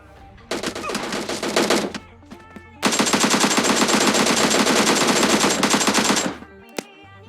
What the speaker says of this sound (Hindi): यार DP28 वैसे तो है अच्छी गन, लेकिन एकेएम का फायर रेट इससे थोड़ा सा बस ज्यादा है।